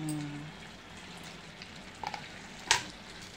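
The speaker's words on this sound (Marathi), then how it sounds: "आता टोमॅटो टाकते." Tomatoes dropped into a hot pan while making a Maharashtrian vaal and potato bhaji, giving a low steady sizzle with a couple of brief clatters and a sharper clink near the end, no talking.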